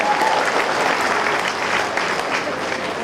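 Party workers applauding at a BRS constituency workers' meeting in Balkonda: sustained dense clapping from a crowd indoors, loud and steady, with no pauses.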